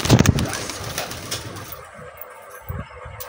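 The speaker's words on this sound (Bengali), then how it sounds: "এখানে কিছু পায়রা আছে দেখাচ্ছি।" Soft pigeon cooing amid a busy, noisy background with some rustling and low thumps, the birds fairly close but not dominant.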